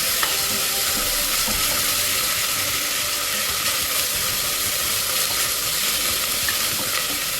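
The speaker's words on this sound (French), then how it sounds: "J'ai rajouté les oignons et je rajoute l'épice moulue. On mélange le tout." Onions and ground spice fry in a pot for diri kole with pigeon peas, giving a loud, continuous sizzle and hiss with stirring scrapes mixed in, and no talking.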